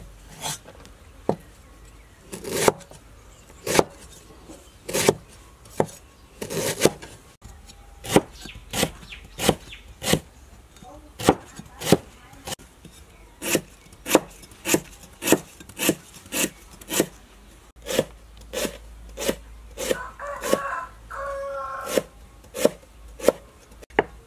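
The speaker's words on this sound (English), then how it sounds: "Now chop lemongrass." Lemongrass is chopped with a knife on a wooden board: a long series of sharp, close knocks, irregular at first and then a fairly steady rhythm of single strikes, with faint rustling between them and no talking.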